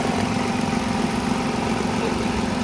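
A 2014 Hyundai Eon car engine idling steadily, a close, even, continuous hum and rumble with no voices.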